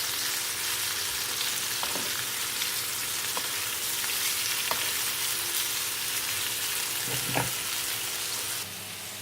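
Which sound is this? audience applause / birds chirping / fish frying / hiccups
fish frying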